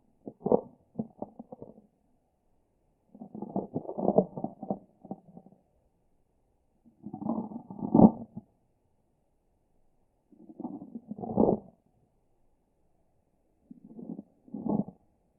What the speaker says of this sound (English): Boxes with fewer matches generate more noise when shaken